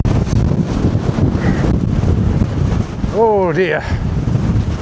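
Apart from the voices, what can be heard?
strong wind blowing into microphone on a hike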